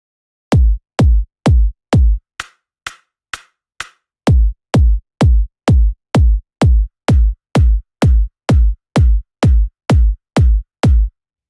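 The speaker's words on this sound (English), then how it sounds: "We will just listen to the kick and then together with the clicky top end." A punchy techno kick drum repeats at a steady tempo, with a few thin clicky reverb hits partway through before the full kicks return.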